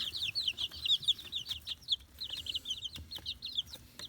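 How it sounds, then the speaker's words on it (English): Backyard chickens beside a newly built coop, with a steady run of soft clucks and chirpy calls in a busy flock, moderately close over low outdoor rumble. "That's the chickens."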